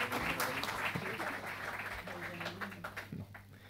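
A seminar audience in Antofagasta applauds the two speakers, moderate clapping that thins out over a few seconds, with murmured voices mixed in beneath it.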